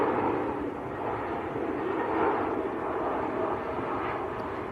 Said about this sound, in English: Turkish Airlines on short finals in from Istanbul.